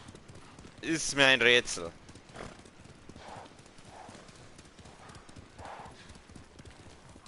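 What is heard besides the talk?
horse hooves clip-clopping in the video game Ghost of Tsushima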